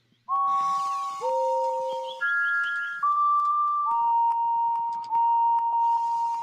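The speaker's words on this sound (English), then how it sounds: "That's Mickey's whistle, just for the record" A train engine whistle in a video game sounds as a sequence of clean, steady electronic tones that step between different pitches, each note held for about a second, heard alone with no talking.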